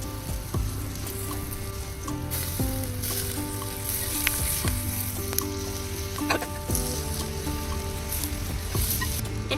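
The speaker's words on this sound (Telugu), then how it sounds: "ఇప్పుడైతే శుభ్రంగా కడిగి పెట్టుకున్న ఈ చేప ముక్కలు కూడా వేసేసుకోవాలి." Washed pond fish pieces drop into a hot pan for a tamarind fish curry, setting off a loud, steady sizzle with scattered clinks and stirring scrapes, with no voices present.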